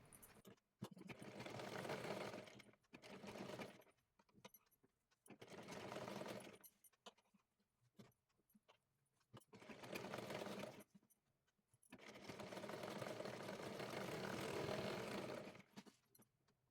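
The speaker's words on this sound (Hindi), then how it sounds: "यहाँ पर हम अस्तर के ऊपर पहले सिलाई लगाएंगे" A sewing machine stitches the lining of a blouse in four long runs of steady, close whirring, with short quiet pauses between bursts and no voices.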